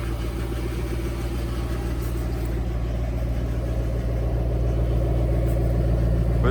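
A 2010 Ford Mustang GT V8 idles steadily nearby, a deep, even rumble with a constant low throb that holds at the same level throughout, with no talk over it.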